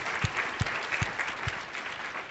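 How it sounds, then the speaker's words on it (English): An audience applauds presenters after their talks at a design event, a steady patter of many hands with a few louder, heavier claps standing out near the front. "a round of applause is deserved for Jose and Karen and Mark for just some really fantastic presentations"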